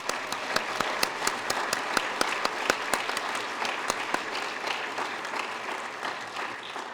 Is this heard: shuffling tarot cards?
no